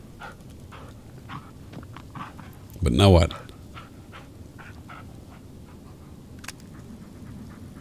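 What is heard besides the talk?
dog panting in the video game Blair Witch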